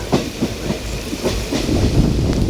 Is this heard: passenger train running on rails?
yes